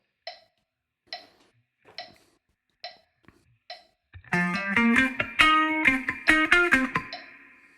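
An electric guitar plays one full bar of a song: first a run of short, clipped muted plucks spaced at even intervals, then a dense burst of ringing, chord-rich notes and hammer-ons, played alone and close.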